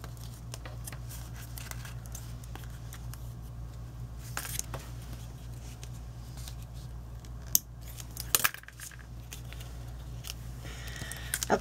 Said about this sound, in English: I'm going to just trim off the excess here